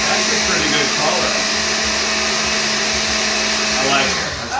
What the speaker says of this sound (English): Get that blender work there.